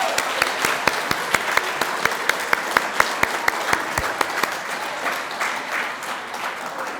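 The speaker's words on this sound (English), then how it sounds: "Round of applause for the Need to Lead class," An audience applauds a graduating leadership class at a ceremony, with steady, full clapping and sharp individual claps standing out throughout, fading slightly toward the end.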